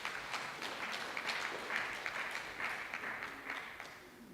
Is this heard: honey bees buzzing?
no